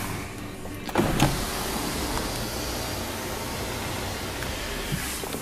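Power sunroof or rear window motor on a limited-edition car running steadily as a low, continuous whir, with a couple of faint clicks near the start and end and no talking.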